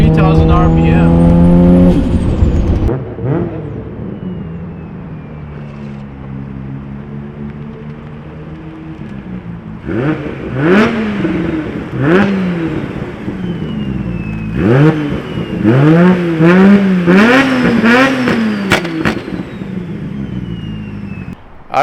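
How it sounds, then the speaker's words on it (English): Nissan R32 GTR with a modified RB26 engine revs loudly and repeatedly, sweeping up and down as the turbo boost builds, with several sharp climbing pulls after a brief quieter stretch; someone talks over parts of it. "probably the fastest spooling RB26 I've ever been into. This is crazy. Look, the boost is coming in at 3000 RPM."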